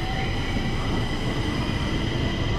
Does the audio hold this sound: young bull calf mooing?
no